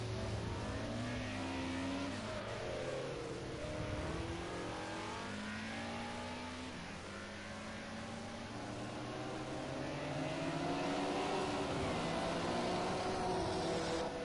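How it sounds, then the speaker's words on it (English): A Mercedes race car roars through the tunnel at Monaco during a racing series round, its loud engine note rising and falling steadily, with other cars' tones layered through the sustained sound. "the roar of the engine through the tunnel, that Mercedes"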